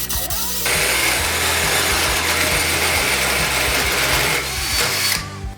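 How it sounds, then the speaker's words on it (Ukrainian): A cordless drill in second gear boring with a 20 mm spade bit, a loud steady whirring drone that starts abruptly after a brief pause, holds continuously and then cuts off near the end. "попробуємо 20-м перевим сверлом. Друга швидкість спочатку."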